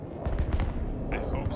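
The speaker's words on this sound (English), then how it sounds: "that's a good bombing drop" Bombs dropped from planes during a Broken Arrow battle, a quick cluster of several deep booming explosions rolling together, loud and heavy in the low end.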